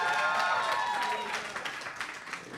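Brief applause from a comedy show audience, fairly loud at first and thinning out within a couple of seconds, with a voice speaking over the opening moments.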